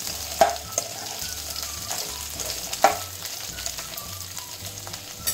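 Chopped onion frying with partly cooked potatoes in a pan, a continuous moderate sizzle with occasional sharp clinks and scrapes of a spoon as the mix is stirred, no speech.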